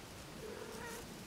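A cat meows once in a single drawn-out call, faint and somewhat distant beneath steady background noise.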